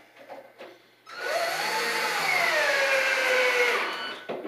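A power screwdriver drives screws into a wooden cabinet face frame, giving a steady whirring run of about three seconds with a slowly shifting pitch, close and fairly loud, after a few short knocks.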